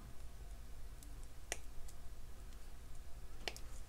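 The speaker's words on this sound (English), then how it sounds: "you're going to snip it exactly in the middle" Cutters snip through jewelry chain links for a mixed-metal necklace, giving a few sharp, tiny metallic clicks spaced seconds apart over a very quiet background.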